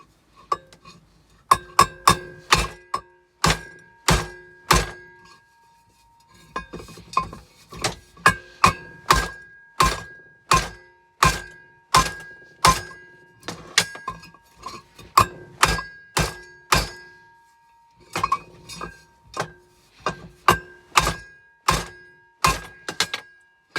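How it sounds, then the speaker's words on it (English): Repeated sharp metallic hammer blows on a stuck metal part, dozens of ringing strikes in steady bursts with brief pauses, close and loud. "we're going to give it a smack with hammer"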